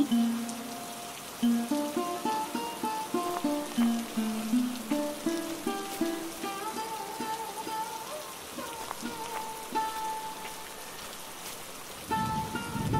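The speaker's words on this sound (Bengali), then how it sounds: "আবার তো বৃষ্টি শুরু হলো" Steady rain patters down throughout a Bengali cartoon scene, a continuous wash of drops mixed with a melodic musical score.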